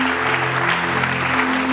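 An audience at a theology graduation ceremony claps in a dense, continuous burst of applause, loud and sustained throughout with a faint hum underneath.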